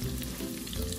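Bean sprout spring rolls frying in hot oil, giving a steady, close crackling sizzle that runs without a break, with no one talking.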